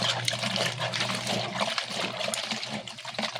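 Water trickles and dribbles as washed Move It helmet padding is squeezed out by hand, an uneven close spatter of liquid running for a few seconds with small splashes.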